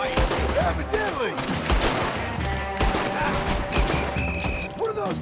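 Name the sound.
gunfire in Red Dead Redemption 2 video game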